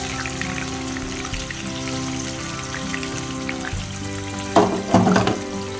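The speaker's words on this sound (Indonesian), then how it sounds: "Nah, ini dia aku mulai goreng tahunya ya teman-teman." Tofu fries in a pan, a steady crackling sizzle like rain on a surface, close and continuous, with a couple of louder spattering bursts near the end.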